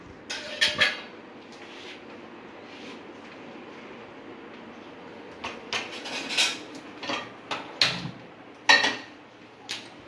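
A metal pan is set down and shifted on a stovetop before grilling paneer for satay paneer, giving several sharp clanks and scrapes spread across the stretch, close and fairly loud over a quiet kitchen background.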